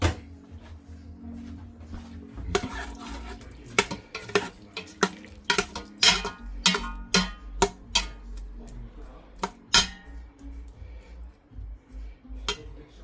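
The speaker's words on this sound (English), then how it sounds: "Now, put lid on." Lid being fitted onto a pot of beef stew, a series of sharp metallic clanks and taps of irregular rhythm, close and fairly loud over a quiet background.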